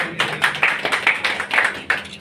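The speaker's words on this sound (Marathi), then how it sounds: "जोरदार टाळ्या" A school event audience clapping at a Darpan Day celebration in Georai, giving a run of sharp claps in an uneven rhythm, close and moderately loud, with no talk.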